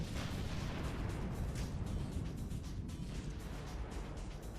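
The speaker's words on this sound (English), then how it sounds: "at least there's some kind of artillery going on here" Artillery fire in the World War II strategy game Sudden Strike 3, a dense, continuous rumble of distant booms and bursts merging into a low roar, fairly quiet, with no voices over it.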